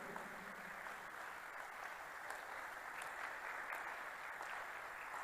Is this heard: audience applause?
yes